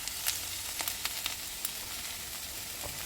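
Vegetables sautéing in oil in a pan, a steady close sizzle with a few soft clicks of a stirring spoon, no voices.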